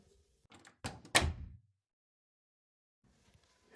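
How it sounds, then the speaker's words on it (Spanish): A school toilet cubicle door opens with a couple of dull knocks and a creaking thud, close and fairly loud, then near silence with faint background rustle. "Abrí la puerta."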